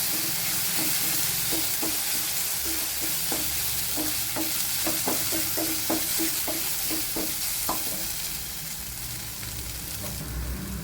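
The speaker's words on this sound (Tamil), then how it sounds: "இப்போ இஞ்சி பூண்டு பேஸ்ட்டை சேர்த்துக்கலாம். சேர்த்துட்டு நல்லா வதக்கி விட்டுக்கிறோம்." Ginger garlic paste sautéing with onions in a kadai, a steady close sizzle with a run of quick stirring scrapes and taps through the middle, fading slightly toward the end; no talking.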